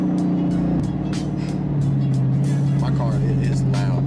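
Dodge Challenger R/T engine idling steady and loud, its low rumble filling the clip with slight throttle changes, while people talk over it nearby.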